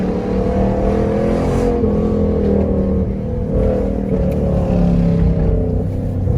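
Jeep Commander with a new intake manifold accelerating hard uphill with traction control off and tires spinning; a loud, steady engine roar with rising revs carries throughout, close and continuous, with no talk.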